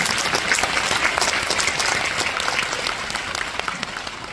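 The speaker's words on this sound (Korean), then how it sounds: "격려의 박수 부탁드리겠습니다." A large audience of about 1,800 fills a Busan hall at a leadership forum with dense, steady applause, loud and continuous throughout, tapering slightly toward the end.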